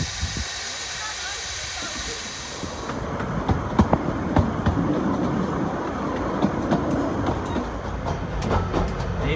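A train in Llanberis, Snowdonia, hisses and begins moving after coupling up, with clanking and rhythmic clacks of wheels and couplings building up after a steady hiss at the start.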